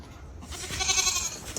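Goats bleat on a goat farm, a drawn-out wavering cry that rises and holds, close and fairly loud, with no talking.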